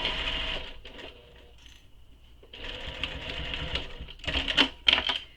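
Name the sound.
sewing machine stitching a handbag panel fold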